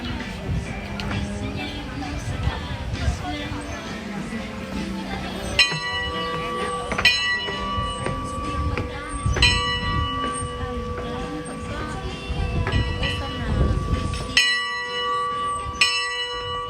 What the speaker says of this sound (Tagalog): Pinatunog na, pinatunog yung kampana.